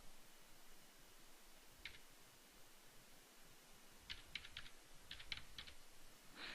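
Faint computer keyboard typing, entering an IP address, in short bursts of clicks over a steady background hiss, with no voices.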